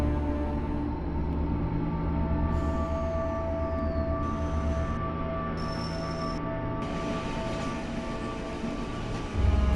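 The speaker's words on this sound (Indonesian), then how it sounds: "KA 1156 telah mendapatkan aspek kuning dari sinyal keluar stasiun Sawah Besar dan KRL pun mulai diberangkatkan." A KRL electric commuter train pulls out of Sawah Besar station past the exit signal, giving a steady loud rumble with a sustained motor hum and shifting tonal whines, and no voices.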